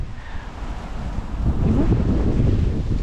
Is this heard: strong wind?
yes